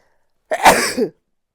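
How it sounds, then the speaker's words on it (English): A single short, sharp sneeze burst, close and loud, alone against silence. "I'm going to sneeze"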